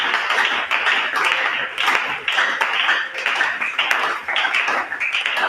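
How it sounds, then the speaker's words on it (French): A church congregation applauding during a sermon, a steady wash of many hands clapping with a slightly pulsing rhythm and no voices over it. "On acclame pour ça."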